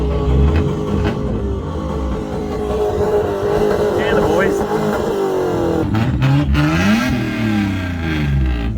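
A tuned car engine revs and accelerates from inside the cabin at night, a loud droning roar rising and falling in pitch with swells through the gears, with someone talking over it.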